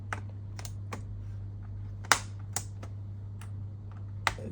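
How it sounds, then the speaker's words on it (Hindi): Keyboard being pried out of a Dell laptop from above during disassembly: scattered sharp plastic clicks and snaps, one louder crack midway, over a steady low hum, close and quiet. "ये ऊपर से इसका पहले कीबोर्ड निकालते हैं।"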